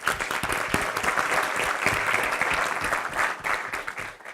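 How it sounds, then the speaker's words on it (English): A brief round of audience applause at a talk on campaigning for social change, dense steady clapping that fades toward the end. "So quick round of applause for Maitrey."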